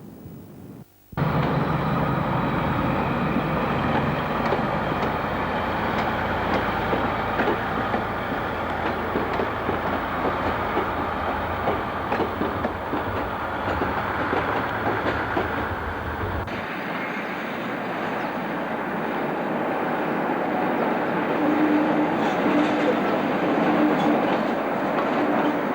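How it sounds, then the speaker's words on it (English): A steam locomotive on the Oxford to Cambridge railway line, heard as a steady, loud, rumbling mechanical roar that holds for the whole stretch, its low end dropping away partway through while the hiss and drone carry on. "The steam locomotive is standing in the bay used by Cambridge trains."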